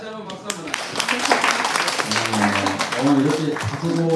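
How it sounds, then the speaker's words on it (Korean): Church congregation clapping together after a closing prayer at a Sunday service, a dense wash of applause with singing or sustained voices running over it. "다시 한번 박수 한번."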